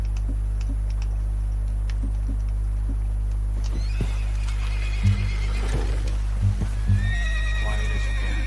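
A horse in the Red Dead Redemption 2 video game whinnies and snorts, with soft hoof clip-clops, over a low constant ambient hum; the neighs come loud and close near the end.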